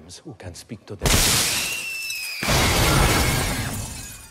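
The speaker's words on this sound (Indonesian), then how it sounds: "tiba-tiba lampu di ruangan itu jatuh dan pecah" A ceiling lamp drops and shatters in a film scene set in a haunted Venice house: a few soft knocks, then a loud sudden crash of breaking glass with ringing squeals and debris, and a second burst of crashing clatter.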